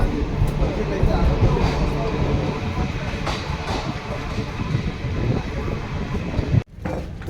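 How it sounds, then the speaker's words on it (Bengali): A train pulls out of a station near Chikkaballapur heading toward Kolar, a loud, continuous rumble with rhythmic wheel clatter close by that holds steady before cutting off abruptly near the end. "আর এই আমাদের ট্রেন চলে যাবে কোলারের দিকে।"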